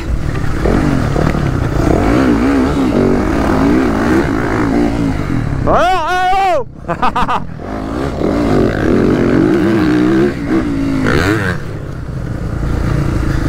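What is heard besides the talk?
motorcycle accelerating in an enduro race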